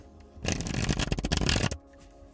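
Playing cards are riffle-shuffled in one quick, dense burst of rapid fluttering clicks, close and crisp, lasting just over a second before stopping.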